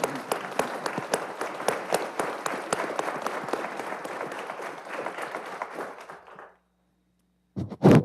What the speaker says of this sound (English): I think we should stand and give them all a round of applause.